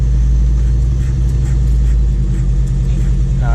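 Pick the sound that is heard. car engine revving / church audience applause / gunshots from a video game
car engine revving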